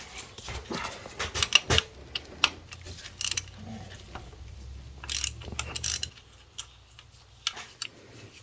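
Socket wrench with a 24 mm socket loosening fuel rod lock nuts on a 5.9L Cummins diesel engine in a 2006 Dodge Ram 2500, with close, irregular ratcheting clicks and metallic taps coming in short bursts.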